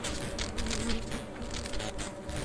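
A swarm of bees drones close and loud in a video game, a thick continuous buzz with wavering intensity and no voices over it.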